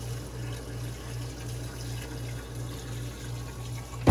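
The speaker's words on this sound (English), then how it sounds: "you just push down the pedal a little bit to fill up the bowl" An RV toilet bowl in a Cougar travel trailer fills with water through a foot pedal, a steady pulsing gush of water close by, ending in a sharp clunk.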